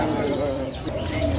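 A caged Himalayan bird calls at a bird market, its short cooing and whistled notes sounding close, with chirps from other birds and background market noise around it.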